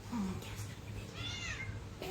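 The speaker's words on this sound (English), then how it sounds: "But I think I'm going to grab a cat." A house cat in a kitchen during pie baking gives a short meow, fairly quiet, with a person talking softly around it.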